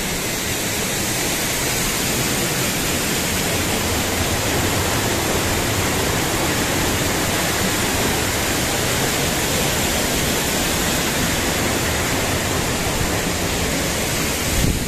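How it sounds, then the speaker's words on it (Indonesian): A waterfall deep in a forest pours in a steady, dense rush of splashing water that stays loud and unchanging throughout, with no voices. "Ini ada air terjun kemericik di sini."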